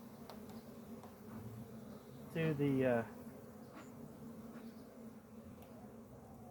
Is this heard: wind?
no